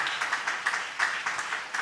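A church congregation bursts into hearty applause, a dense, continuous patter of many hands clapping together at close range.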